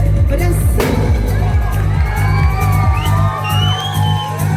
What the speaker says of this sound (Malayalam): ഒരു അസാധ്യ കൈയടി കൊടുത്തുകൊണ്ട് നമുക്ക് വേദിയിലേക്ക് ഇൻവൈറ്റ് ചെയ്യാം